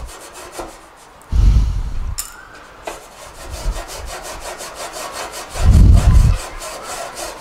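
The top of a Ninja grill being scrubbed with a metal wire brush, loud rasping strokes in bursts with quieter scraping between them, close and with no voices.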